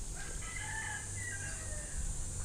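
A rooster crows outdoors in an open green space full of birds, a clear mid-distance call over a low steady background hum, with no one talking.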